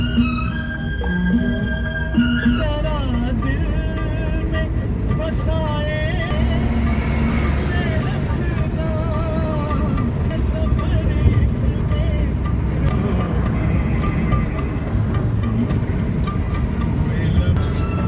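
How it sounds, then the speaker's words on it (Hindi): Heavy road traffic on a Rajasthan road trip rumbles steadily, with engines passing close by and several long, sustained horn blasts sounding near and loud; someone talks over the din. "बाकी ट्रैफिक बहुत है"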